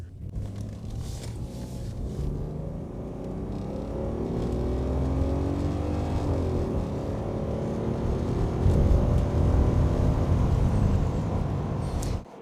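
A BMW E23 735i with a 3.5-litre, 218-horsepower engine and three-speed automatic pulls away, the engine note rising, dropping at each upshift, then climbing again as it works through the gears.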